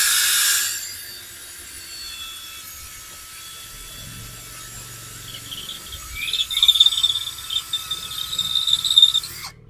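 A JIAPU SS-168-100 16.8V brushless two-mode cordless drill drills into a lightweight concrete block: a steady high motor whine, then rough, fluttering grinding as the bit bites in, close and fairly loud.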